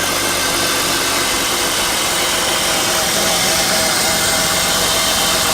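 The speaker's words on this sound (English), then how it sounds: "Kind of a rough idle." A BMW E36 engine idles roughly, a loud, close, uneven rumble that runs continuously with no pauses.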